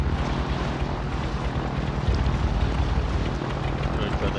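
Helicopter in Call of Duty: Warzone, a dense, continuous rotor and engine roar with wind-like rushing, loud and steady throughout, with game voices mixed in.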